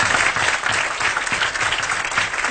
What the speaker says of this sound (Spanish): Un aplauso grande a Jesús de Nazaret